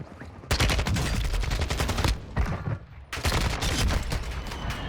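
Rapid automatic gunfire in Warzone 2, loud dense bursts of shots in two long strings separated by a brief lull, close and continuous.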